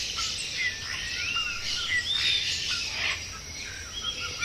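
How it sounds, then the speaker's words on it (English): Little ringed plover, a ground-nesting bird of gravelly, moist river banks, calling in short rising and falling whistled notes repeated several times over a steady background of insect and ambient noise, with no talk. "The little ringed plover."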